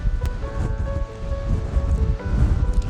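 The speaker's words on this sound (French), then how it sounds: "Il y a beaucoup de vent" Gusty wind buffets the microphone in uneven rumbling surges on the coast of Kalsoy in the Faroe Islands, near the Kallur lighthouse, with faint surf-like roar in the background.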